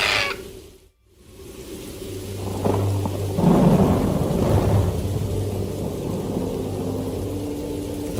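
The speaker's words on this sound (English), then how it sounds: "This is no spring shower. It's a gully washer." A heavy downpour hisses steadily as thunder rumbles loudly, swelling after a brief lull and rolling on under the rain.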